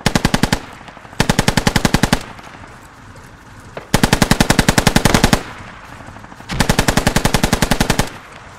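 Machine gun fire in the military shooter game Squad: several long rapid bursts, loud and close, separated by short quieter gaps.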